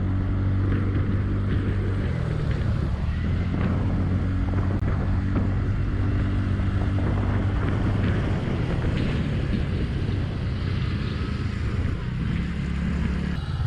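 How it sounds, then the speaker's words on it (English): A TVS Ntorq 125 Race XP Edition scooter accelerates in street mode, its engine hum steady and close under heavy wind rush and road noise throughout. "That was some acceleration parts of the scooter in street mode"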